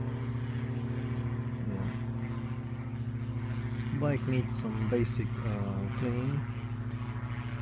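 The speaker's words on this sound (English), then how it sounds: "Sorry for the plane, not far from airport." A nearby airplane passing low close to an airport gives a constant loud drone with steady tonal hum throughout, while someone talks over it in the second half.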